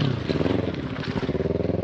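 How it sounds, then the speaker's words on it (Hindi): A KTM motorcycle engine is held at full throttle nearby, giving a loud, rapidly pulsing roar that stays steady across the moment. "थ्रोटल दे पूरा फुल थ्रोटल दे"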